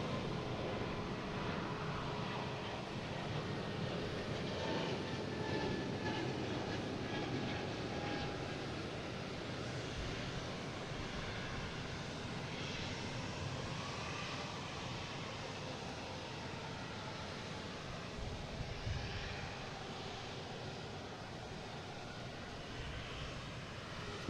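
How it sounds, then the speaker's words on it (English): A JetBlue Airbus A220 takes off at Boston Logan International Airport, a sustained jet engine roar with faint whining tones drifting in pitch, steady and moderately loud throughout. "Next taking off is a JetBlue heading to Philly in A220, flight 2459."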